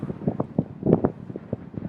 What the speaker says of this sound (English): It's hard to keep your balance, and it's really windy.